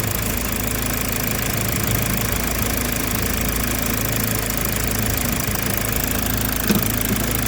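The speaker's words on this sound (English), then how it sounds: "I'm going to be putting in to the motor while the engine is idling" Mazda CX-5 diesel engine idling close to the microphone during a DPF cleaning, giving a steady, even knocking rumble with no talk.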